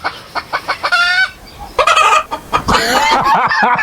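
A person imitates a chicken: a few short clucks, then loud, close squawking cries that stretch longer, with no other sounds.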